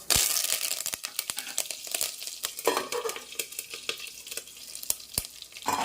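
Mustard seeds and curry leaves crackle and spatter in hot oil, a busy fry with sharp irregular pops and a hissing sizzle underneath, heard close up with no talking.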